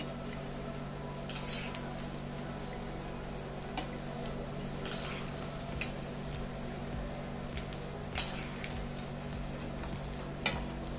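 Chana kofta frying in hot oil, a steady low sizzle throughout with occasional faint clicks and scrapes of a utensil against the pan.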